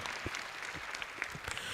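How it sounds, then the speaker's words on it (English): A small audience claps for a young environmentalist at a gathering with Gen Z youth, steady dense applause lasting briefly at moderate level. "And a round of applause to him, please."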